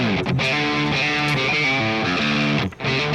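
Double-tracked distorted electric guitar through an IK Multimedia TONEX amp with the low end cut by graphic EQ, playing loud sustained chords and riffs with a short gap near the end.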